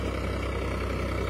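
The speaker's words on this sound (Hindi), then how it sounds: "ट्रैक्टर चल रहा है भाई" A Farmtrac 60 tractor engine runs at a steady idle with a deep, even low rumble that holds constant throughout, close and continuous with no voices over it.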